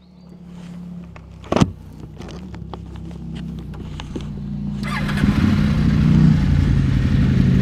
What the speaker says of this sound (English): Bunch of KTM riders up behind me